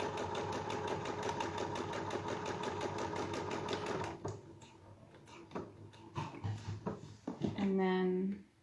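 A sewing machine stitches a straight seam along a fabric edge, a fast, steady mechanical whir for about four seconds, then stops, followed by scattered clicks and handling sounds and a short burst of close talking near the end.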